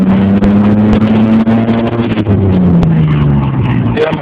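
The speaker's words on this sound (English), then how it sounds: "my truck won't shift out of first gear" A truck engine stuck in first gear revs loudly and continuously up close, its droning pitch sliding slowly down and up again under the steady engine noise.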